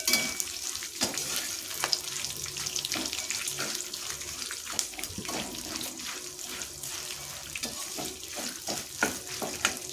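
Chickpeas fry in oil in a pan while garlic puffed rice chivda is being made, a continuous sizzle broken by scattered clicks and stirring taps, moderately close, with no voices.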